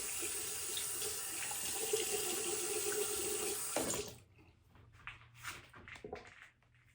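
A bathroom tap runs steadily into a sink for rinsing after a shave, a close, even rush of water that stops after about four seconds, followed by faint splashes and handling noises.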